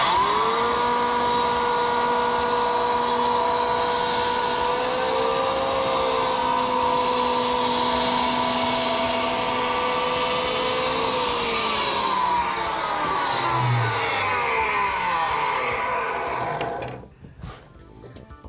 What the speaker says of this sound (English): The ideal tool for scribing Akril panel into internal corners, or even scribing a line into it, is an electric planer.